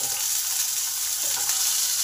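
Potato, eggplant and peas go into sizzling oil in a pan for a drumstick-flower stir-fry, producing a short, steady, close hiss of frying.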